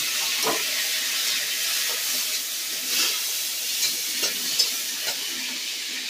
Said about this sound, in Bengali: চিংড়ি মাছটা দিয়ে ভেজে নেব